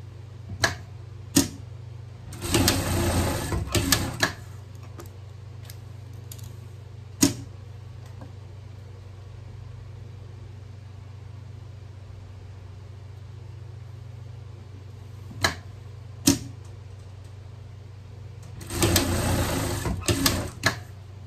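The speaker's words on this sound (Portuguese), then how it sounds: "Vamos pregar os ombros." A sewing machine stitching the shoulders of a vest, running in short loud bursts of fast rhythmic whirring separated by quiet gaps and isolated clicks, close by with no talking.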